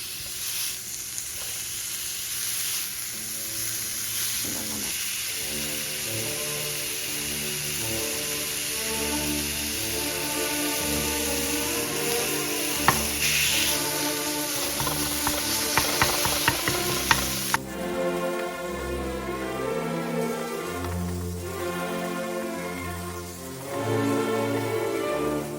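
Ground beef and ground lamb frying in a pan, a steady close sizzle running throughout with occasional stirring scrapes, alongside background music.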